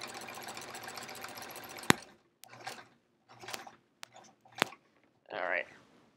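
A sewing machine does free motion quilting on a sampler quilt, close and fairly quiet, running steadily and then in short bursts with sharp clicks between them.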